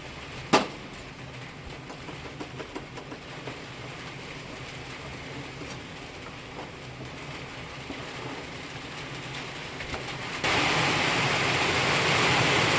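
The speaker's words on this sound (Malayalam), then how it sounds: "ഇത് നല്ല മഴയാണ് കേട്ടോ, നല്ല സൗണ്ട് മഴയുടേത് വരുന്നുണ്ട്." Heavy rain pours down in a dense, continuous hiss that swells noticeably louder toward the end.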